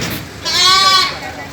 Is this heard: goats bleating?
yes